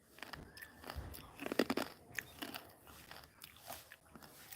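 Someone bites into hard homemade murukku, producing a run of faint, close crunches and snaps with a louder cluster of crackles partway through, then quieter chewing.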